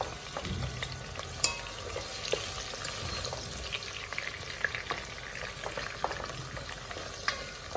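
Salted fish sizzles and crackles in a frying pan as it is stirred, with a quiet, close spatter and intermittent scraping and clinking from the stirring utensil.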